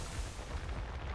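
Gunfire in Mass Effect Legendary Edition sounds as a short, loud, booming blast of weapon fire with a heavy low rumble, filling the whole moment without speech.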